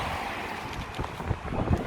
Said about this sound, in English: It's still quite windy here